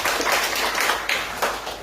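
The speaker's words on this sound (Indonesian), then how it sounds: "Berikan tepuk tangan." A church congregation clapping, a short dense burst of applause close by with no pauses.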